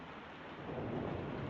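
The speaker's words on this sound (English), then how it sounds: "And poor Edwards, these storms don't do him any good." Thunderstorm with heavy rain in a film scene, a dense hiss of rainfall with a low rumble of thunder building and growing louder toward the end, no voices.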